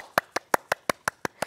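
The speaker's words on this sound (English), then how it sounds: "Give yourself a big clap." Eight evenly spaced hand claps in a steady, quick rhythm, crisp and close, with quiet gaps between each clap.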